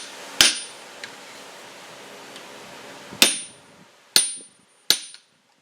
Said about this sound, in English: Come through here with my flatter